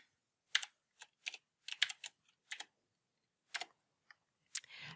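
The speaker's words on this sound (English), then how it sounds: "I'm going to put that in here. And then I will put in my password." Sparse, crisp keystrokes on a computer keyboard as a login password is entered, a handful of quick taps in small clusters with pauses, close and quiet in an otherwise silent room.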